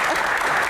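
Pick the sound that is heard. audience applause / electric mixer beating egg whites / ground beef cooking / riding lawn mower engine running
audience applause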